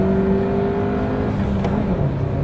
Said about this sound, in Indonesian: Ini kita mau coba akselerasi ya. Kita shift down dulu.